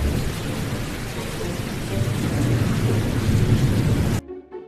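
Heavy rain pours in a dense, steady hiss with deep rolling thunder rumbling beneath, ending abruptly near the end.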